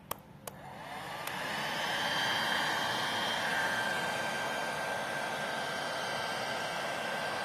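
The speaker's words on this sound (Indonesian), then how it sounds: "Oke, kalau untuk hair dryer." A hair dryer switches on after a few clicks, ramps up and holds a steady loud whooshing roar with a thin high whine, running continuously close by.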